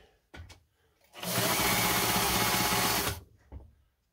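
A Pfaff 130 sewing machine runs a longer stitch in one continuous burst of about two seconds, a close, dense mechanical whir with rapid needle clatter, framed by a few soft handling clicks before and after.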